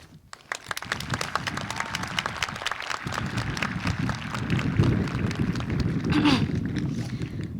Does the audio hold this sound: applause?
yes